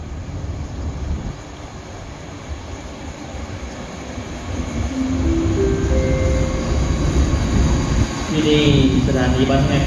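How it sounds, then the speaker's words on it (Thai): Train number 415 pulls into Ban Haet station in Thailand, a steady rumble of wheels and engine building louder over about ten seconds, with a rising tone near the end and people talking in the background. "ก็กำลังจะเข้าจอดสถานีบ้านแฮดนะครับ"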